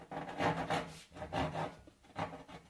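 Rhythmic rasping of a hand saw cutting through wood, several back-and-forth strokes, close and fairly quiet.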